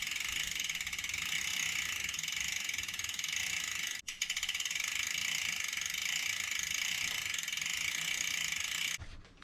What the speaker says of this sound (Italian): inserite i due spazzolini all'interno della catena.